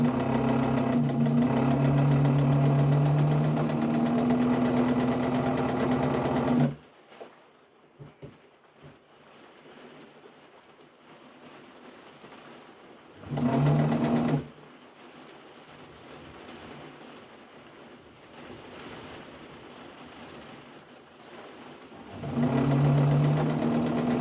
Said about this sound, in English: But just sew it up all round, leaving a gap at the back.